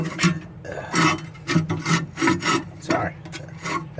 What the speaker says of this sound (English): Now we're going to add basically the charcoal grate.